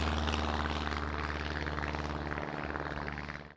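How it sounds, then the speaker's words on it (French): A Stampe SV4 biplane re-engined with a Lycoming flat engine drones past in flight, its propeller buzz loud and steady before fading out at the end. "le Stampes V4. Celui-ci est remotorisé avec un moteur Lycoming à plat."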